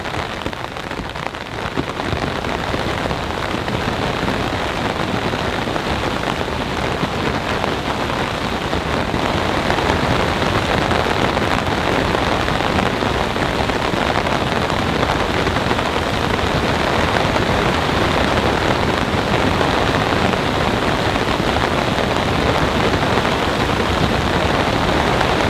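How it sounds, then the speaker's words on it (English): Heavy, steady rain during a thunderstorm pattering densely on a nearby camping tent, a continuous loud hiss that never lets up. "The next round of rain is here."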